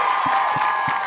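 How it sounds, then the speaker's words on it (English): A crowd applauds and cheers for a film cast at a live event, a dense wash of clapping with a few heavier thumps recurring at a steady beat. "Give the cast a round of applause."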